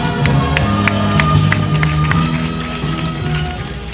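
A crowd at an outdoor rally of small-business owners in Yeouido, Seoul, claps in scattered, uneven bursts over a murmur of voices and background hubbub, moderately loud and continuous throughout.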